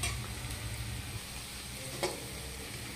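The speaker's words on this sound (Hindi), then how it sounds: "छोलनी से इसको चलाते कढ़ाई में जब तक ये पूरा पक के भूरा ना हो जाए" Onions sizzle and fry in a kadhai while a ladle stirs them, a steady close hiss with one brief scrape of the ladle partway through.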